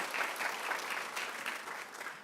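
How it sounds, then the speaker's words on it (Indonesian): A church congregation applauding during a Sunday sermon, a dense continuous wash of clapping from a large crowd that holds steady and fairly soft throughout, with no one speaking over it. "Tepuk tangan dong buat semua hamba Tuhan."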